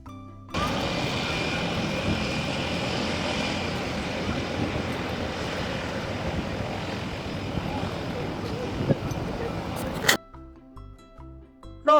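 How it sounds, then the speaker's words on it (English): A seaplane engine drones steadily at a moderate distance for about ten seconds before cutting off abruptly, followed by a few faint thumps. "Seaplane,"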